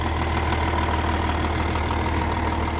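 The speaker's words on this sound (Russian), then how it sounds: "ровненько работает мотор" Steady, even rumble of a 2007 Volkswagen Touareg engine with 221,000 km idling up close, constant in pitch and volume throughout, with no voices.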